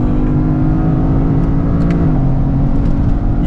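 A 2025 Toyota GR Corolla engine held high near redline under acceleration, a loud, sustained, buzzy drone heard from inside the car, rising slightly before a brief dip like a shift, with no talking.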